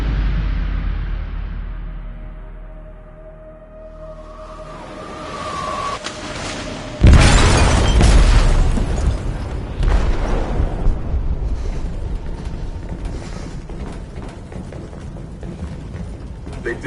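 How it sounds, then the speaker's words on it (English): A loud explosive blast goes off in a ship's hold in Detroit: Become Human, striking suddenly after a quiet stretch and followed by a long rumbling roar and clattering debris that slowly settles. "They detonated an explosive in the hold."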